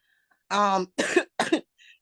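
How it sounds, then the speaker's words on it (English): Three harsh, rough coughs in quick succession, close and fairly loud, followed by a faint breathy exhale. "Excuse my crunchy cough"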